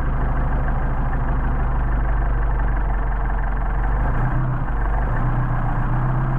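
A car engine idles steadily on tuned Solex 44PHH carburettors, a continuous low hum and rumble that stays even and close throughout, with a slight shift in tone near the end.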